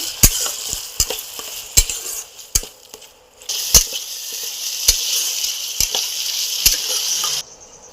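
Loitta fish being stirred in a hot pan for bhorta, with a steady sizzle and repeated sharp scrapes and taps of a spoon against the pan, close and clear with no talking.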